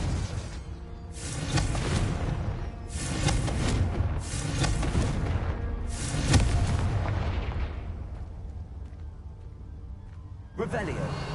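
Confringo fire spell blasts in Hogwarts Legacy, several booming explosions in quick succession followed by a long rumbling decay, then a brief further burst near the end, with a voice talking nearby.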